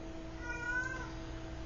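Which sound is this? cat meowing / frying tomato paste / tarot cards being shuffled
cat meowing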